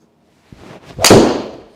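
A golf ball is struck with a 4-iron off the tee of a par-3 hole into the wind. There is one sharp, close crack of impact, preceded by a faint tap and followed by a brief fading rush.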